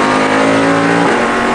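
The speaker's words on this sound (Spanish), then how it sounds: "Este es el auto de Potoliquio a bordo." A Grand Am race car in Kansas roars loudly and steadily at close range, its engine pitch holding high before dropping slightly near the end, with no voices over it.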